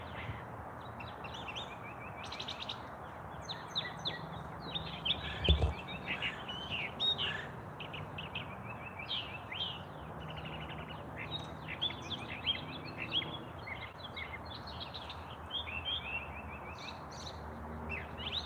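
A mockingbird sings outdoors, running through a varied string of chirps, whistles and imitated calls of other birds in steady, restless bursts at moderate distance, with no one speaking.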